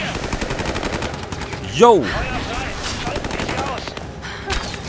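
Rapid bursts of automatic gunfire in the video game Rise of the Tomb Raider, loud and continuous, with a sweeping whoosh partway through and a brief shout over the shooting.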